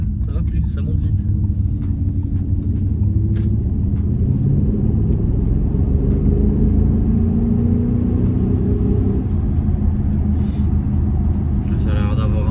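Audi SQ7 ABT with a tuned 4.0 TDI V8 diesel rated at 520 hp pulls under acceleration, a deep continuous rumble whose tone gradually rises, with people talking over it throughout.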